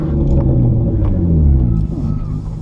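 A car with a newly installed hydraulic handbrake drifts, its engine rumbling loud and close with a slight rise, while people talk over it.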